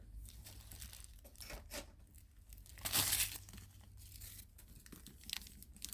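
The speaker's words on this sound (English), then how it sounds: "Let's do the honors of cutting the tape here to take a look inside." A blade slices through packing tape on a Dooney & Bourke handbag box, giving a few close crinkling tears that build to one louder rip midway, with no voices.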